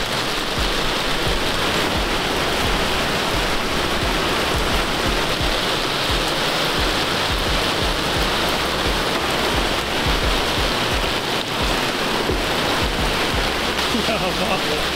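Heavy typhoon rain pours down outdoors during bonsai potting work, a dense, steady, close roar of water hitting surfaces that holds at full strength without letup.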